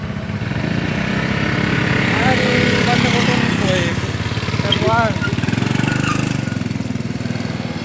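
A motorcycle engine runs steadily throughout on a road trip in Indonesia, a continuous mid-pitched drone with wind rush, while people talk over it.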